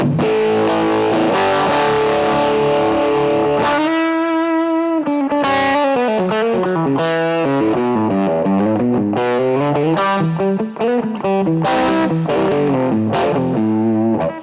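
Electric guitar played through the Guitar Rig 7 Seattle fuzz preset: thick, heavily distorted fuzz tone with sustained chords and single-note bends, loud and continuous for the whole stretch with no talking.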